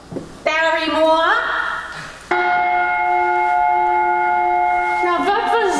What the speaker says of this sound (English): The church down the street, the clock in the bell tower.